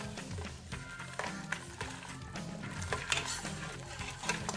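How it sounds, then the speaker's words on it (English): A slotted spoon stirring and shaking ogbono soup in a pot off the heat: repeated quick scraping and clinking of metal against the pot in an uneven rhythm, close and moderately quiet. "I am using a slotted spoon because it helps dissolve the lumps"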